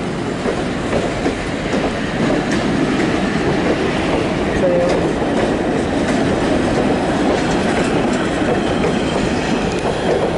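A freight train hauled by locomotives N459 and A66 rumbles past close by, a loud continuous roar with rattling, clacking wheels and a brief metallic squeal.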